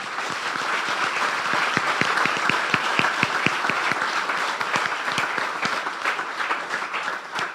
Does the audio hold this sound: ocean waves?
no